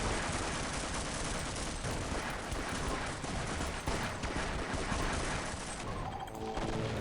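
Dense, continuous gunfire in a Half-Life deathmatch, rapid overlapping shots and impacts filling the whole stretch with almost no gaps, ending in a few softer mechanical clicks.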